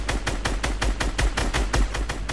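A rapid burst of automatic gunfire from the video game Fortnite, with about a dozen loud, evenly spaced shots in steady succession and no talking over it.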